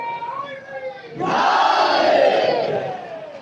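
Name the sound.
mourning crowd shouting slogans at Azadari procession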